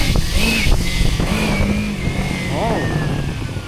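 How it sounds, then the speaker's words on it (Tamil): Kawasaki Ninja 300 motorcycle running steadily after a Shell oil change, its engine hum close and continuous, with a rising whine and a brief warbling tone mixed in, a voice talking over it. "வண்டி புசு புசுன்னு போகுது"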